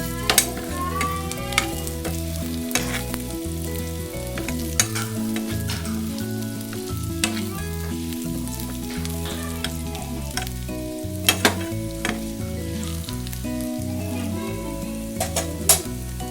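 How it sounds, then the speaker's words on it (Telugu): Baby potatoes frying in a pan, a loud continuous sizzle close by with occasional clinks and scrapes as they are turned. "ఇట్లా ఫ్రై అవుతున్నాయి కదా, అండ్ ఇట్లా ఫ్రై అవుతున్నప్పుడు మళ్ళీ టర్న్ చేశాను"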